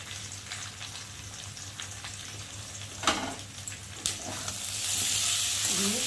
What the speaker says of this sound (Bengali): দিয়ে ভালো করে মশলাটাকে ভেজে নেব, কষিয়ে নেবো আলুর সাথে।